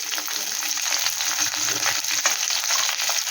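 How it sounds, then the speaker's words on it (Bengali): Capsicum and onion fry in a hot pan for a chilli baby corn dish, a steady close sizzle with light stirring scrapes throughout. "আর দিয়ে দিচ্ছি একটু ক্যাপসিকাম।"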